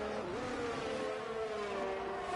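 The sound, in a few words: cars racing through turn 13 in F1 22 video game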